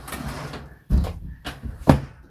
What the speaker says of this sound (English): I'll just close this window